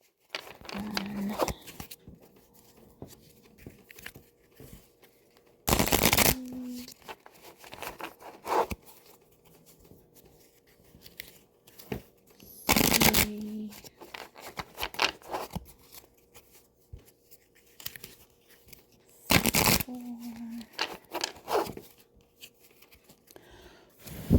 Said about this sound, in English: That one fell out as I was shuffling the deck.